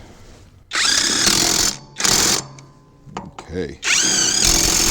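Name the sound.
Alloyman 20V cordless impact wrench running in lug nuts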